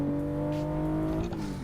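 A car engine drones steadily in the racing game Assetto Corsa, holding a constant tone before shifting slightly near the end, loud and close with no talk.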